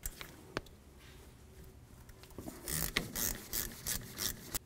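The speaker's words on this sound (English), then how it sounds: "we're going to crack open our banjo bolt" A wrench cracks loose a banjo bolt on a Ford F250 front brake caliper (1999–2007 model): faint, sparse metallic clicks, then a quick run of louder ratcheting bursts near the end.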